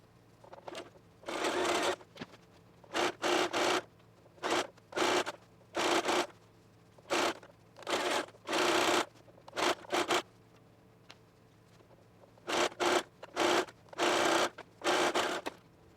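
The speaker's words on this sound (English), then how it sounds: "And then we'll sew this at our regular seam allowance and we're done." A sewing machine stitching the side seams of a dress, running in short repeated bursts of rapid whirring separated by brief pauses.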